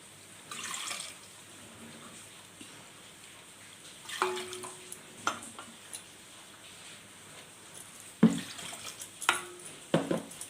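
Water for kakara dough splashes briefly into a cooking pot, followed by scattered clinks and knocks of kitchenware at irregular intervals in a quiet room.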